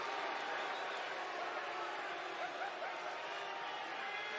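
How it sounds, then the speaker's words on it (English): Wrestling arena crowd booing a wrestler during WWE Raw, a steady, distant roar of jeers filling the hall without pause. "He's getting booed out of the building."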